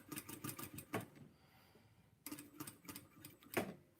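A sewing machine set to stitch length 5 runs over folded fabric for a tutu outfit, giving two short bursts of rapid, close mechanical clatter separated by a quiet pause, with no talking.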